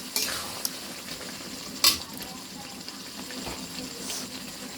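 Chicken kosha being stirred in a pan, a spoon scraping and clinking against the metal with soft sizzling underneath, a couple of sharper knocks standing out amid quiet, close kitchen sounds.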